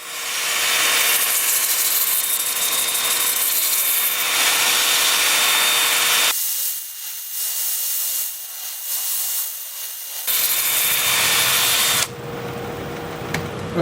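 Continuous loud, breathy sanding hiss from a 2-inch sanding disc pressed against a wooden bowl turning on a lathe, interrupted by a short lighter stretch and resuming, with a faint whine throughout.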